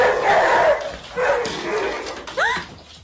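A dog gives a few short barks, then a high, rising whimper near the end of the brief stretch, with a voice briefly audible around it.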